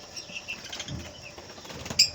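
Soft, fluttering wingbeats of pigeons at an aviary in Baghdad come through a low, steady background, ending with a brief sharper burst.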